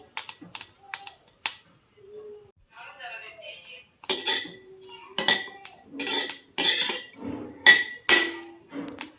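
Green chilies roast in a hot pan, jumping and popping in bursts of sharp crackles and clattering ticks that come irregularly and grow busier and louder toward the end.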